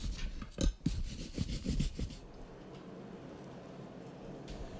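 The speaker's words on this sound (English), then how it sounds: "So let's scrub it and take a look at it." A forged turkey foot fire poker is scrubbed with quick, uneven rasping strokes for about two seconds, followed by quieter background noise; close by, no talk.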